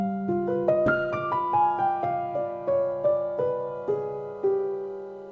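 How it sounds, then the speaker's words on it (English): Acoustic grand piano preset on an Akai MPC X plays a slow melody of single sustained notes, each struck clearly and left ringing, close and alone with no voices. "This is noir."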